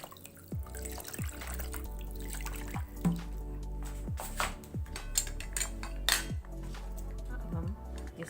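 Clean water splashes and trickles over a kitchen item during rinsing, with running-tap flow, repeated drips and light clinks of dishware near and steady, no talking.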